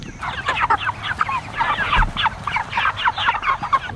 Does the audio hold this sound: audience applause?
no